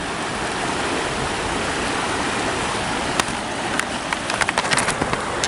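The Ovens River at Bright flows past the bank in a steady broadband rush, close and loud, with a few sharp splashes or knocks near the end.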